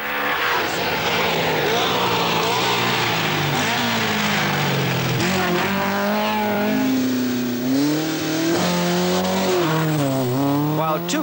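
Rally car engines, including Vauxhalls and Opels at the 1982 Ulster Rally, roar loudly and rise and fall in pitch as cars race past one after another, with talking partly underneath.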